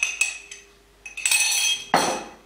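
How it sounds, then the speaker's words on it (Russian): Scraping and clinking of a metal whisk against a bowl in a few short bursts, close by, with no voices, as yeast and sugar are stirred into water for fried dough buns. "Послушайте, как венчик шкрябает."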